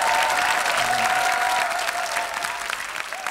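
A studio audience on a KBS puzzle game show gives a burst of encouraging applause, dense and even clapping that stays loud throughout and eases off slightly at the end.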